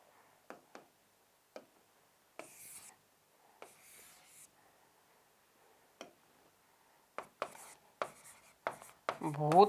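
Marker or chalk writing on a classroom board during a Hindi grammar lesson, heard as scattered short strokes and taps, some faint, with a busier burst of scratching near the end; no speech.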